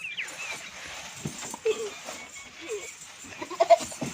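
Goats bleat in short, fairly faint calls while being loaded onto a cargo vehicle, with scattered bumps and some background noise around them.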